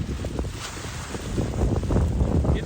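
Wind howling outdoors, buffeting the microphone with heavy low rumbling gusts that swell and fade in an uneven rhythm, loud and close, with no voices.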